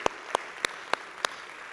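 Five spaced, evenly timed claps during a church sermon, sharp and moderately near over a quiet room, too sparse to form full congregation applause.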